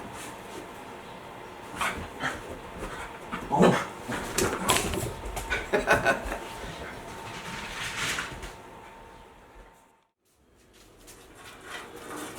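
A dog whimpers, yips and gives short barks in an uneven string of vocal bursts close by, falling silent briefly before a low rustle resumes.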